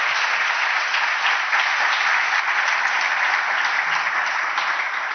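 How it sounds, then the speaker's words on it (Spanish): Sustained applause from a conference audience fills the room for the whole stretch, dense and even, with no voices standing out. "Creo que se merece un aplauso."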